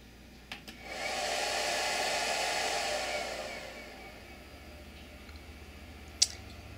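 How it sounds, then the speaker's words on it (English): A PC water-cooling setup's fans and pump rush up at switch-on, a soft, airy whoosh that holds for a few seconds and then fades back to near silence, with a few faint clicks around it. "rush from the fans and the pump when you turn it on"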